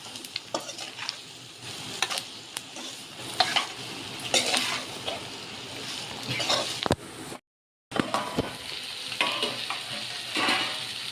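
Okra is stirred in a sizzling pan for a hotel-style spicy masala bhindi, with a loud frying hiss and repeated scraping spoon strokes, briefly cutting to silence midway.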